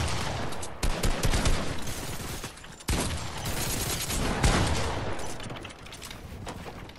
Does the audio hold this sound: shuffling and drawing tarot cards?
no